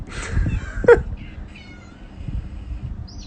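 A cat meows a few times, with a short loud cry near the start and a thin high mew toward the end over a faint background murmur.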